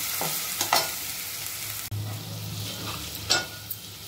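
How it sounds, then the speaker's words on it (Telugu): Onions with turmeric, ginger and garlic fry in a pan with a close, steady sizzle. A few sharp stirring scrapes break through, and there is a brief dip partway through. "కాస్త పసుపు, ఉల్లిగడ్డ ఇవన్నీ మంచిగా ఫ్రై కావాలండి."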